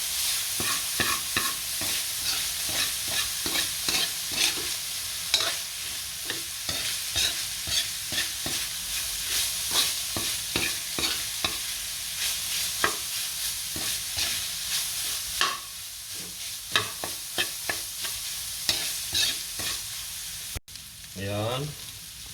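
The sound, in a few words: meat stirred and frying in pan for baked macaroni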